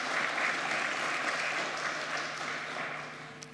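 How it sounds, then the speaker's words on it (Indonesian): An audience at a stock market trading opening ceremony marking 48 years of the reactivated capital market applauds steadily, a dense and sustained wash of clapping that fades slightly toward the end. "Boleh kita berikan aplaus Bapak Ibu sekalian?"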